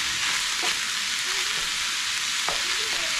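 Ground beef fries in a pan, a dense, steady sizzle close by, with a few soft stirring scrapes and taps against the pan.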